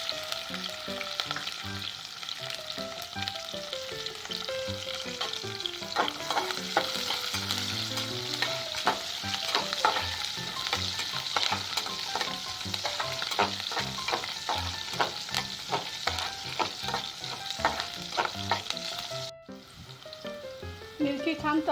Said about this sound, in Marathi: मिरची छान तळली गेली.